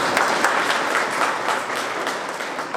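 A crowd claps steadily at a spiritual gathering, dense and close applause with no voices over it.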